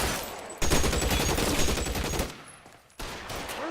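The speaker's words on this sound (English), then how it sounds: "Who the hell is shooting?" Sustained gunfire from the video game L.A. Noire, a dense fusillade of shots that fills most of the clip, briefly dropping away before resuming loudly, with no talk over it.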